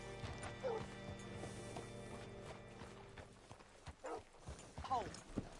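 Horse hooves clip-clop at a steady walk in a video game, amid a busy soundscape with quiet voices and other background sounds mixed in.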